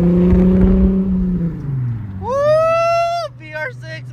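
Straight-piped VW Jetta VR6 engine revving, a deep idle rising into a loud, sharp rev that holds, then a few quick blips, close up with excited voices around it.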